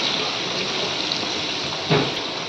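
Water is poured into ground mustard paste mixed with white and black mustard seeds and green chillies, a soft steady trickle with a brief louder splash near the end.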